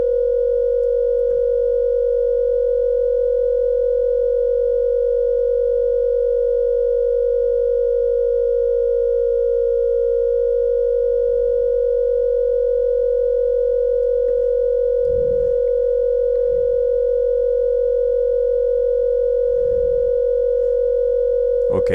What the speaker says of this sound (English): All this sine wave we can play with.